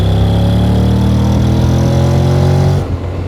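A Honda Forza 750 scooter engine revs hard and loud up close, a rising mid-pitched drone with strong harmonics that holds steady and then drops off abruptly near the end.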